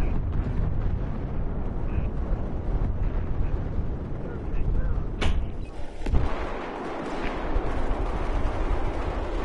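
A grenade blast in a video game battle, a rumbling explosion over continuous gunfire and battle noise, with a sharp crack near the middle and voices talking through it.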